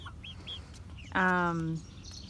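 A loud, raspy squawk from a chicken lasts under a second, preceded by a few faint chirps, with quiet background noise.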